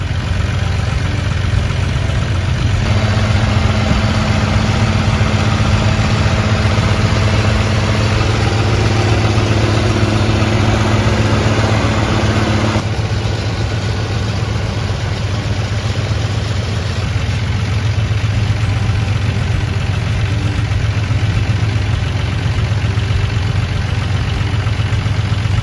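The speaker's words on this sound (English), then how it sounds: "The McHale F550 baler combined with the Massey Ferguson 6480, featuring a powerful engine," A Massey Ferguson 6480 tractor pulling a McHale F550 baler while baling silage runs with a loud, steady engine drone and vibration, close and unbroken, with a mechanical tone that shifts partway through and no talk.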